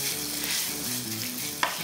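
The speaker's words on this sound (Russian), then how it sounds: "И вот пока жарится курица" Chicken pieces fry with onion in a hot pan, giving a steady close sizzle as they are stirred, with a brief utensil scrape near the end and low tonal background sound.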